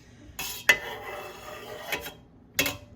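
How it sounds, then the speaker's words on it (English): A knife cuts fresh cheese curds in a pot, giving a few sharp scraping strokes against the metal with quieter rasping between them, close up and with no talking. "So you're cutting the curds into pieces."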